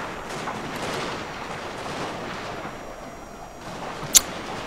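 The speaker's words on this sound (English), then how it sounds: "I want to see the naval bombardment go in because it's fun" Distant artillery rumble from a naval bombardment in the Total War: Fall of the Samurai strategy game, a low continuous barrage of muffled booms with one sharp, louder crack near the end.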